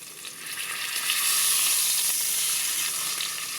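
Honey garlic pork loin sears in a hot pan with a steady, close sizzle that swells briefly midway and then holds even.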